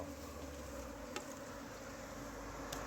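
A steady, close buzz of honeybees drones on throughout as they are moved from a nest in the ground into a hive box, with a couple of faint clicks and no voices.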